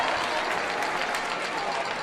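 Crowd at a high school boys basketball Division 3 championship between Gilford and Mascoma Valley roars and jeers over a missed foul call, a loud, continuous wash of shouting and clapping with a commentator talking over it.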